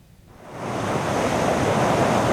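Rough, churning sea surf near Chittagong port during a week of heavy monsoon rain, a broad roaring wash that swells up from near silence within the first half second and holds steady and loud, with wind buffeting the microphone.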